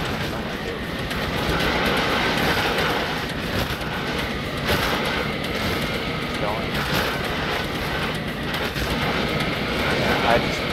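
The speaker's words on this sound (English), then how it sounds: "I have the engine turned all the way up and I'm just flooring it" A player-built low-rider vehicle in Scrap Mechanic runs with its engine at full throttle, giving a continuous dense mechanical roar that holds steady throughout, with faint voice-like sounds mixed underneath.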